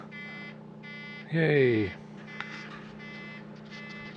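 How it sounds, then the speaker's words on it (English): Indicator buzzer wired to the third pin of an electronic flasher unit on a Daimler Dart SP250 converted to LED indicators, giving repeated short electronic beeps in an even rhythm under a steady hum, with a brief excited voice in the middle. "The buzzer is now connected as well."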